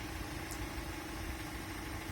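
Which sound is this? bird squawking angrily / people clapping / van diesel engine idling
van diesel engine idling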